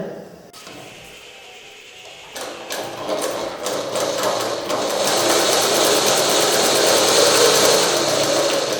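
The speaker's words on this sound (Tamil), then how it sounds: "இந்த ஷார்ப்பாக வர பகுதி இது வரைக்கும் நம்ம தையல் போடணும்" A sewing machine stitches a dart in fabric. After a quiet start, it breaks into a few short bursts and then settles into a fast, steady, loud mechanical whirr up close, with no talking.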